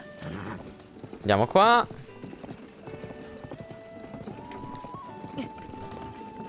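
Hooves of a horse in Zelda: Tears of the Kingdom clip-clop steadily throughout, with a short whinny early on, under a sustained game music tone and someone speaking Italian.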